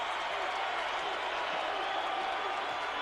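Fans in the arena at the 1998 Great Alaska Shootout championship between Duke and Cincinnati cheer and applaud after a made basket. The roar is steady and washed out, as on an old broadcast, with a commentator talking over it.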